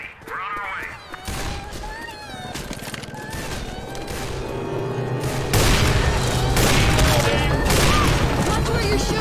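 Dense gunfire and explosions in the Left 4 Dead 2 zombie shooter, on the Left Behind map, building into a sustained loud barrage with cracks and booms under overlapping shouted voices.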